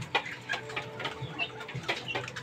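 Chickens cluck in short, scattered bursts inside a small poultry coop, close and soft, several birds calling irregularly over a quiet background.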